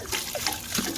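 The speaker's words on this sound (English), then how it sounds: "This is actually just cleaning it as you saw and now rinsing it with water." Water splashing and sloshing as it rinses through a severely rusted Farmall 300 gas tank, a steady close wash of liquid with irregular splatters throughout.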